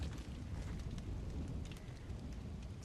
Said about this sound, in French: La pluie, heureusement, se calme.